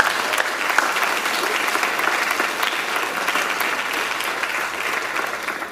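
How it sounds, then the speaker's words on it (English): Students applaud their parents at a high school National Honor Society induction ceremony, a dense, sustained round of clapping from a large indoor crowd that holds steady throughout. "So students, if you could please show your parents a round of applause here."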